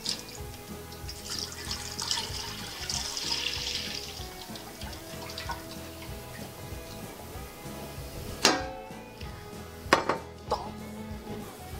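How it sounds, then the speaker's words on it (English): Milk pours into a cooking pot, a steady liquid stream with gurgling and splashing, then a few sharp clanks of the container or pot near the end. "you need to get your milk in your pot"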